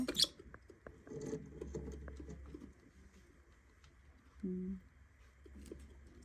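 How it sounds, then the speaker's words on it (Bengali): Pet pigeons or doves pecking at corn kernels at dinnertime, with soft repeated tapping and patter close by, a brief low coo near the start, and a faint background hum. "বিগ ডেডি, আর ও এখনো কর্ন খাইতেছে।"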